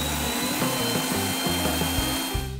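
Electric mixer whipping cream with powdered sugar and vanilla for tiramisu at low speed, a steady close motor whir with a faint high whine and uneven low rumbling from the bowl, no talking.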